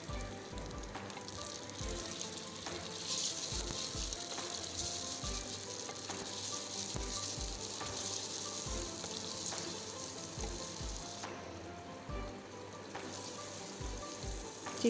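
Chicken sizzles and fries in a pan with ginger and garlic, a steady close crackle with intermittent stirring knocks and scraping throughout, no talking.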